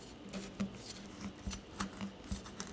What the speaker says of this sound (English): Now, we're just going to go ahead and cut it up into even bars.